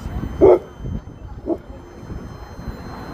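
A dog barks once sharply nearby and then gives a softer bark outdoors, with a low background rumble and voices around it.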